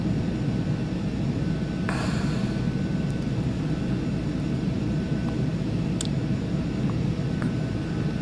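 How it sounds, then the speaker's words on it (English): Steady, loud jet engine roar of a Cessna Citation II S550 in the Prepar3D flight simulator as the throttle is advanced, a continuous broadband rumble with a few faint clicks, no speech. "So let me give it a little more throttle."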